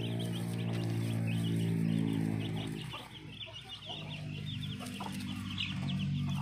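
Black chickens cluck steadily in a backyard flock on a Thai farm in Phetchabun, with a low, continuous background hum running throughout.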